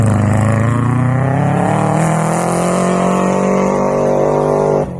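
A rally car powering through a dry hairpin on a forest rally stage, a loud, close engine howl with steadily climbing revs for nearly five seconds before it abruptly drops away.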